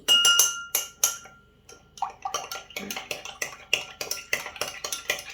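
Metal utensil clinking against a dish while food is stirred for a weight-loss meal, a series of sharp ringing taps in uneven bursts, close and fairly loud, with no talk.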